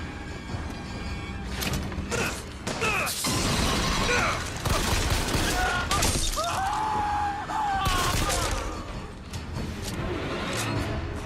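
Gunfire and impacts in the shooter game Bioshock Infinite: repeated loud bursts, crashes and shattering hits over several seconds, with dense clattering between shots and a whooshing effect partway through.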